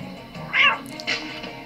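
A cat lets out a short, clear meow followed by a second softer meow, close by, over a quiet background.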